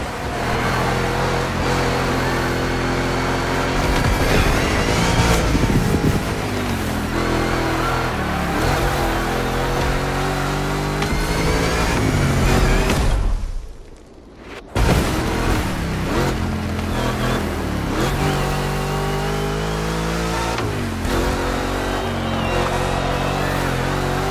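Muscle-car engine roaring steadily through a two-lap race in The Crew Motorfest, a giant Mustang GT-style machine, loud and continuous with shifting revs, a brief dip in the middle before the drone resumes, backed by game music.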